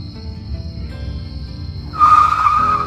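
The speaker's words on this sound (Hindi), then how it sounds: "धीरज, गाड़ी रोक, मुझे कुछ लेना है।" A cartoon car brakes hard to a stop, a loud tire squeal and skid bursting in suddenly near the end after quieter background sound.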